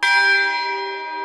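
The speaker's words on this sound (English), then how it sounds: "The third bell signaled time for work." A single strike of a mission church bell, loud and close, with a bright metallic onset and rich sustained overtones that ring on and fade slowly.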